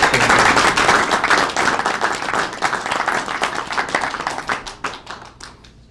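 A crowd applauds loudly, the clapping thinning into scattered individual claps as it fades out.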